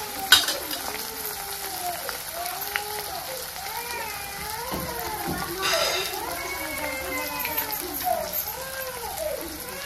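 Chutney and half a spoon of black chili powder hit hot oil in a pan for a chickpea dry curry, giving a steady, fairly loud sizzle with faint stirring scrapes, and a voice talking over it throughout.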